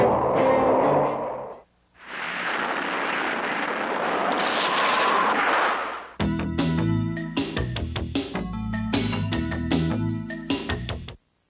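Missile launch and rocket strike effects from a science-fiction puppet film: a roaring, rushing blast swells and sustains loudly, then gives way to booming, tonal impact and explosion sounds layered with dramatic music.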